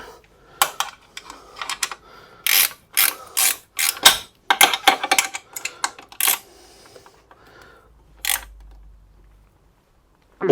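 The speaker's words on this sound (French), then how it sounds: "on peut le visser de suite à fond. Avec une clé de 13" A 13 mm ratchet wrench tightens an exhaust bolt on an Akrapovic exhaust line fitted to a Harley motorcycle, giving short bursts of rapid metallic clicking, close and crisp, separated by brief pauses.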